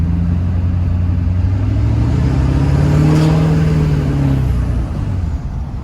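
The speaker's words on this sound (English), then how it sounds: "hopefully you guys can kind of hear the turbo." An LB7 Duramax truck fitted with an HSP turbo horn climbs a hill under load, its engine droning steadily as a rising turbo whine swells and then eases toward the end.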